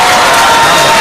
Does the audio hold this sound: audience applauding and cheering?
yes